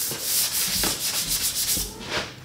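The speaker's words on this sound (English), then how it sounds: "We've sanded the entire car down with 80 grit sandpaper, and now we're basically at the 220 grit stage." A 1977 Corvette body being hand-sanded with 220 grit sandpaper, a close, rhythmic rasping scrub in repeated back-and-forth strokes with no voices.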